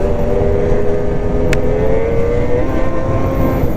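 An XRS 600RR motorcycle engine runs steadily under throttle at close range, a loud continuous drone with a slowly shifting pitch and no break throughout.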